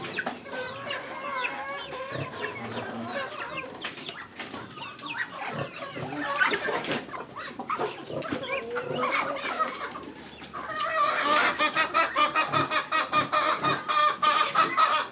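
Backyard hens cluck steadily and continuously up close, a dense chorus of overlapping clucks and squawks that grows louder and more rhythmic toward the end, with no clear talk.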